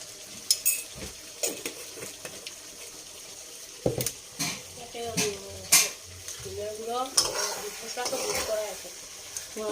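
A spoon stirs broiler chicken curry with ground spices in a pan, making irregular scraping clinks against the metal over a soft sizzle, while someone talks throughout.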